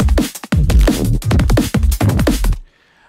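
A punchy electronic beat loop, pattern 32 from a Sample Genie music-production workflow, with heavy rhythmic bass and drum hits in a syncopated groove that plays loud for a few seconds and then stops abruptly.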